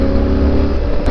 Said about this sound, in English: Definitely like to keep the bike in a few lower gears just because I want to be able to use the engine braking to slow me down.